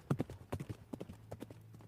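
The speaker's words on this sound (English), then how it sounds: "Right behind them, Simon Cunliffe on his horse, which rode into the hall and up the stairs." Horse hooves clip-clop across a hard floor into a hall, a quick uneven run of close, muffled strikes at low volume, with a faint hum underneath.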